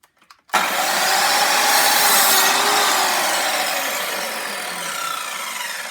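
After a moment of quiet, a power saw bites into wooden pieces for a table easel, producing a loud, sustained rasping cut that stays steady and slowly eases off toward the end.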